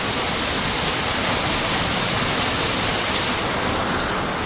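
Heavy morning rain pours down as a dense, unbroken roar that stays loud and even throughout, with no voices.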